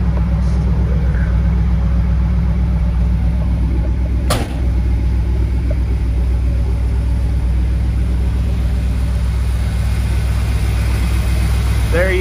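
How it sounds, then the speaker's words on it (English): The 460 V8 in a 1978 Ford F-250 Highboy 4x4 pickup idles with a steady, even rumble, close and unbroken for the whole stretch, with a brief sharp click partway through. "There is your 460 Ford V8 engine."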